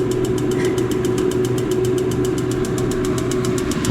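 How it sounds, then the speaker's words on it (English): Bauer forced-air propane heater with its fan running, the igniter sparking as a steady rapid train of sharp ticks over a constant loud fan hum, close up. "I hear it sparking."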